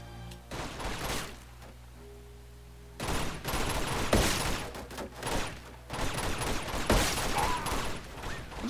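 Uncharted 2: Among Thieves firefight, with loud clustered volleys of automatic gunfire in several bursts separated by short quieter gaps, close and punchy with rumbling low end.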